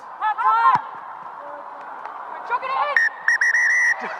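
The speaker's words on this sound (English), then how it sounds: "Bristol Bears decide that they want to hear the half-time whistle." Referee's whistle at a women's rugby union match between Exeter Chiefs and Bristol Bears, with several short shrill blasts and a longer sustained blast near the end, heard over a commentator's voice and crowd murmur.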